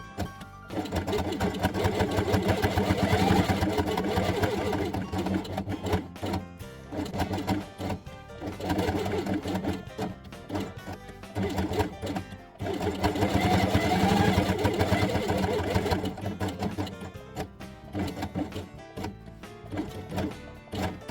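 A sewing machine stitches felt pieces for a dollhouse, running in a loud, fast, steady whir for long stretches and briefly pausing between runs.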